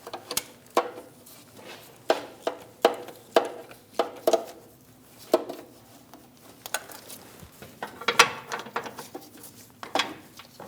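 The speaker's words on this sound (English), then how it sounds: "I'm going to snug down our 2 bottom bolts." Bolts on the oil cooler of a 2016-2025 Chevrolet Malibu 1.5L L4 are snugged down with a ratchet, a series of close, sharp metallic clicks and taps in irregular bursts against quiet.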